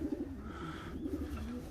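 Pigeons or doves coo steadily while pecking at scattered feed outdoors, a low rolling call repeating several times close by over a constant background murmur.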